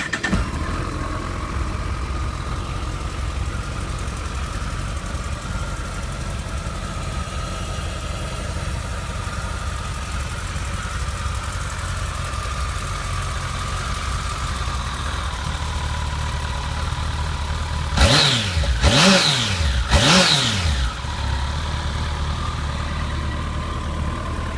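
A Kawasaki ZX1400 motorcycle with a standard exhaust and about 27,000 miles holds a steady, close idle, then gives two quick, sharp revs near the end with no talking.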